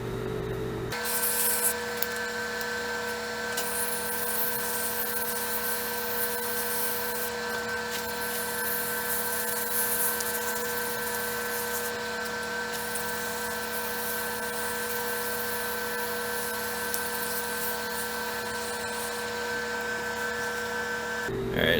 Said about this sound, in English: So I'm going to continue to try and sand that until I get rid of that shiny spot right there.